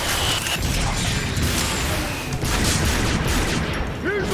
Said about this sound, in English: Watch sharp! Rocket incoming!